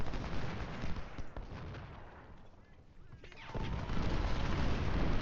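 Civil War battle sounds from Ultimate General: Civil War, with musket volleys and artillery rumbling as a dense, continuous roar, quieter in the middle before swelling louder again near the end.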